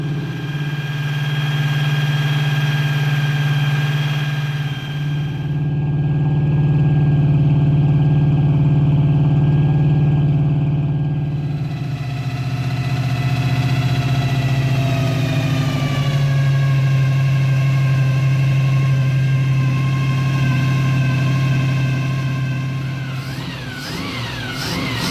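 A Ford 351 Windsor V8 in a Foxbody Mustang idles with a deep, steady rumble, rising in gentle swells as the revs lift slightly and settle, loud and close for the whole stretch with no talking.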